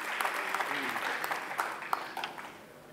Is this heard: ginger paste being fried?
no